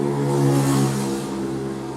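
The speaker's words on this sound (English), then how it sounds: "What is it with noisy motorbikes and me always trying to film?" A loud motorbike engine roars close by, rising then easing slightly as it passes, alone with no talking.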